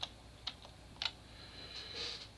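Quiet typing on a computer keyboard while writing code, a few sparse key clicks and a short soft cluster near the end, with no one talking.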